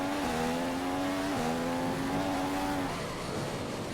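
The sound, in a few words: race car accelerating in a video game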